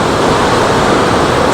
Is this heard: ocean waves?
yes